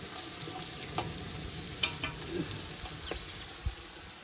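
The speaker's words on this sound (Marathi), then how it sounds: "जे काही पूर्ण साहित्य टाकलेलं आहे ते गरम तेलामध्ये टाकलेलं आहे" Mutton and spices fry in hot oil outdoors at a field party, a quiet continuous sizzle with occasional stirring clinks and scrapes, no talk.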